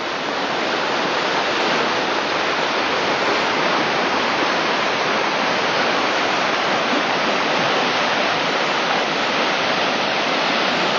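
The Arga river flows near Pamplona, a loud, dense, unbroken rushing roar of moving water like a weir or small waterfall, steady from start to finish, with no voices.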